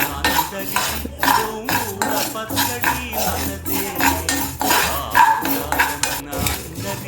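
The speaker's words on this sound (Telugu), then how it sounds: "చట్నీ అంతా సిమ్లో పెట్టుకుని దగ్గరే ఉండి వేయించుకోండి" Ingredients for tomato chutney fry in a pan on low heat. A metal spatula scrapes and clatters rhythmically, loud and close, over a faint sizzle.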